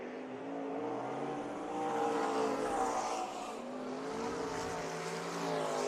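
Western Pro Stock race cars roar around Bakersfield Speedway during a heat race, a steady loud pack of engines with rising and falling revs as cars pass, with no voices.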